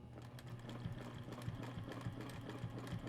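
A sewing machine stitches a quilted spider web design, running at a steady, close hum with a continuous rapid needle chatter and no voices.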